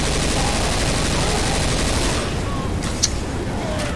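Dense, continuous automatic gunfire fills a Left 4 Dead 2 survival match, loud and relentless for several seconds before thinning, with a sharp single report near the end.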